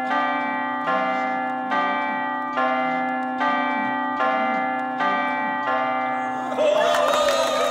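A large bell rings repeatedly in a slow, steady rhythm, each deep resonant stroke ringing on, ending in a busier clangor.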